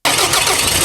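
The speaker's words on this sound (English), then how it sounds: "when I connect this portable jump starter to the battery terminal connectors and power it, the vehicle easily rolls to life" A car engine cranks and catches after a Noco Boost XL GB50 portable jump starter is connected to the battery terminals, then runs loud and close at a steady idle.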